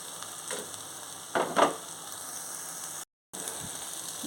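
Drumstick pieces sizzle quietly in a pan for a tomato curry, a faint steady frying hiss broken by a couple of brief stirring scrapes, with a short silent gap.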